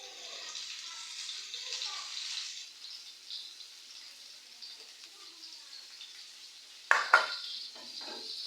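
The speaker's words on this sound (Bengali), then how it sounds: "এখানে আমি আলু ভাজি করব তো তার জন্য এই যে কাঁচামরিচ পেঁয়াজ দিয়ে দিলাম" Green chilies and onions dropped into hot oil for a potato fry, a soft hissing sizzle that fades, then a sharp clatter of a utensil against the pan and renewed frying.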